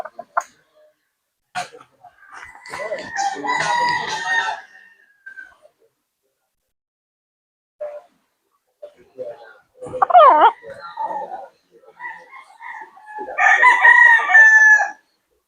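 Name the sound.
rooster crowing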